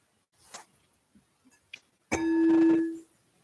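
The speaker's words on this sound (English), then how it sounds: "And using that listening to follow the bell." A single meditation bell is struck after a few soft taps and rustles, ringing out with a clear sustained tone that slowly fades over about a second, heard alone and close.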